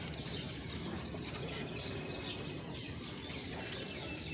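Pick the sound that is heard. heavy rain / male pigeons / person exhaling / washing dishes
male pigeons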